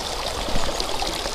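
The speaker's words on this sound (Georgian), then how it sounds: "პატარა მდინარეა" A small, shallow river runs steadily nearby, its soft, continuous burble of water over stones carrying on without any speech.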